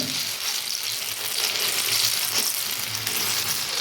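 Banana pitha fries in hot oil with a loud, bubbling, continuous sizzle, close and steady for a few seconds.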